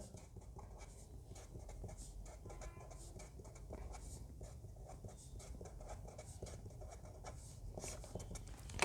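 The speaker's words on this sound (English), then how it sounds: "I'll write it here." Writing on a board during a mathematics lecture makes a faint, steady scratching and tapping that continues for several seconds, quiet and close, with no talking over it.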